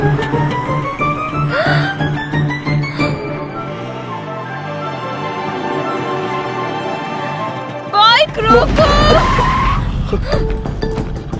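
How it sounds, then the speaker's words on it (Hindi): Car braking hard, tires squealing and skidding in a loud, wavering screech under tense music, then a sharp burst of engine and tire noise near the end. "ब्रेक क्यों मारे तुमने?"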